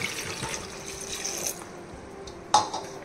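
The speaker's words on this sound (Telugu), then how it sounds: "ఇప్పుడు ఇందులో కొద్దిగా వాటర్ పోసుకోండి" Water poured into a pan while cooking Andhra rasam: a steady liquid splashing and trickling that stops midway, followed by a short sharp clink near the end.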